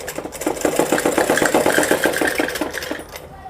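A sewing machine stitches a seam on a Patiala salwar, a close, fast rhythmic whirring clatter of the needle running for about three seconds before slowing and stopping.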